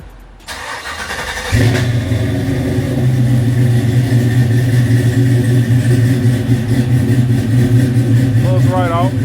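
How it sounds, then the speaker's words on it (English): A Chevrolet Box Chevy car engine cold starts with a short crank, then catches and settles into a loud, steady idle that runs on unbroken and close by. "Finna do this cold start."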